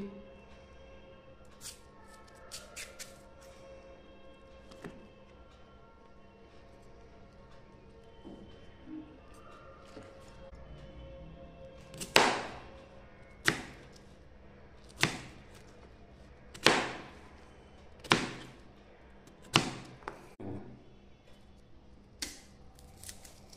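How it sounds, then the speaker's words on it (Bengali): Knife slicing cucumber for a hill salad, a series of crisp sharp cuts, sparse and light at first, then about eight evenly spaced louder chops close by, without talk. "এবারে স্যালাডের জন্য শসাটাকে সুন্দর করে কেটে নিচ্ছি।"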